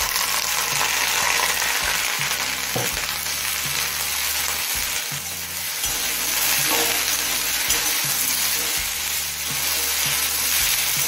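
Loti (taro stolons) fry in a pan with browned onions, giving a loud, steady sizzle close up with scraping stir strokes throughout and no voices.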